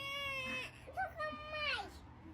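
A toy baby doll gives an electronic infant cry, a few wavering wails in short bursts, heard close with a low hum underneath.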